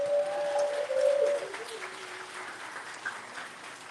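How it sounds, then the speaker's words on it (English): At a high school graduation ceremony, faint, distant applause from the crowd fills a large space as a steady wash of clapping, with a brief tonal sound at the start. "this one is applaud for all of that."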